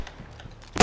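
A single sharp gunshot crack in the video game DayZ at the very end of a short, quiet stretch of low background noise.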